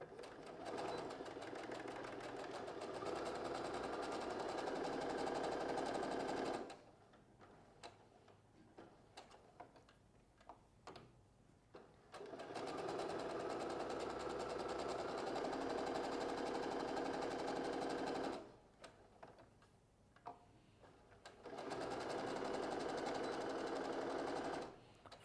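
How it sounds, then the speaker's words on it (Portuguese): A sewing machine stitches fabric in two long, steady bursts of rapid whirring, each starting and ending with a short backstitch, with quiet pauses and small clicks between runs. "Vou costurar com um pé de máquina, começo com um retrocesso bem caprichado."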